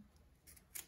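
Faint, quick snips of scissors cutting leftover zipper from a synthetic fabric pouch, two short crisp clips close by in a quiet room.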